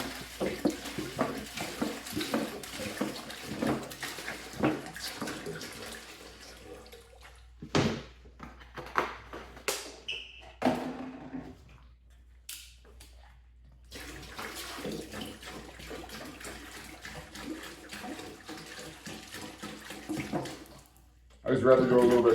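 Water poured into a large pot to soak corn for sterilized mushroom grain bags, coming in several splashing, gushing bursts with pauses between them, fairly close, with a voice heard at times.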